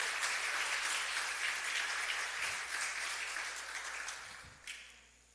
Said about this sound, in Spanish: Gracias por sus aplausos desnutridos